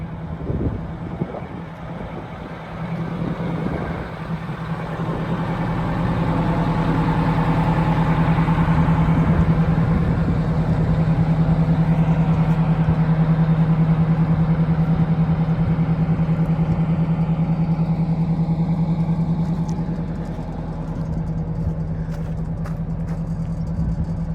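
An E-One fire truck with a 105-foot ladder and low mileage runs its engine, a steady, close, low rumbling drone that holds evenly for over twenty seconds with no voices.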